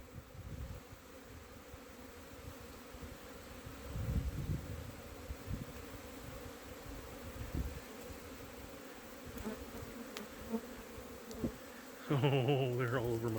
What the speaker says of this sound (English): And the bees are just going nuts.